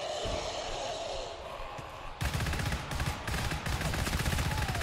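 Rapid automatic gunfire in the co-op shooter GTFO as a full magazine is emptied, a loud continuous rattle of shots starting abruptly after a quieter stretch and running to the end.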